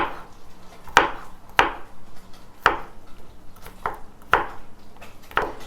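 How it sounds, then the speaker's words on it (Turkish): A knife chops peeled garlic sharply on a cutting board, six distinct thuds at uneven intervals, close and crisp, with quiet background in between. "iki baş sarımsağımızı soyduk temizledik ve şöyle doğrayalım"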